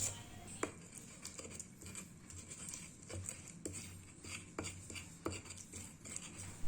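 Garlic, shallots and salt being ground into a paste, heard as a run of irregular soft thuds and scraping knocks at close range, fairly quiet, with no talking.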